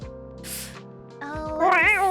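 Indoor cat meowing: one faint short call near the start, then a long, rising and falling whiny meow close to the microphone, with no talk over it.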